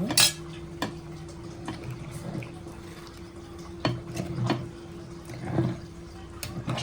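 A spoon stirs hot chicken buttermilk curry in a pot, giving scattered metallic clinks and scrapes against the pot with soft liquid movement, close up, with no talk.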